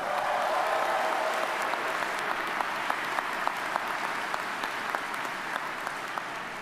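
Graduation audience at a Duke MBA and PhD ceremony applauding steadily, a dense wash of many hands clapping that holds at an even level throughout with no voices on top.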